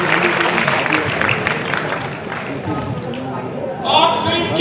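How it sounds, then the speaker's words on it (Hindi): Audience applause at a stage felicitation event for the cast of a film about Acharya Vidyasagar Maharaj, dense steady clapping from a crowd filling the whole stretch. "लेकिन आपकी जोरदार तालियां दोस्तों बनती होंगी।"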